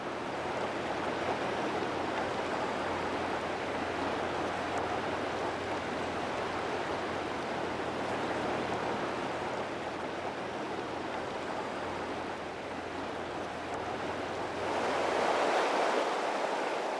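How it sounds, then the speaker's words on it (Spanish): Rushing rapids of the Dunajec river on the Polish border, a steady broadband roar of turbulent water that holds constant throughout and swells slightly louder near the end, with no voices. "Los rápidos que se forman en el río atraen a los visitantes polacos"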